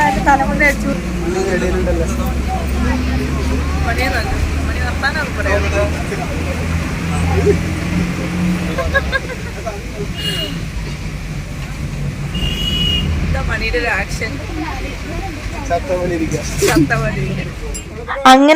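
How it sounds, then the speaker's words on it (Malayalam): Interior of a bus heading to Kothamangalam in Kerala on a rainy day: a steady, loud low engine and road rumble with passing traffic, while people talk throughout. "ഇനി നമുക്ക് കോതമംഗലത്തേക്ക് ബസ് കയറണം"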